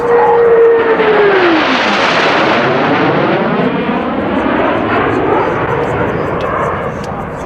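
Blue Angels jets sweeping past at an air show, a loud roaring whoosh with a falling Doppler whine as they approach and pass from behind the spectator area, the roar slowly fading away.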